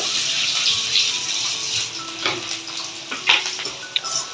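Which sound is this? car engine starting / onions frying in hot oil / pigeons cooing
onions frying in hot oil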